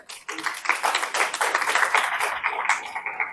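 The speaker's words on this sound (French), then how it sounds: "vous pouvez les applaudir." An audience at a talk applauds volunteers in the hall: a dense, uneven patter of many hands clapping close by, steady for a few seconds and then thinning out.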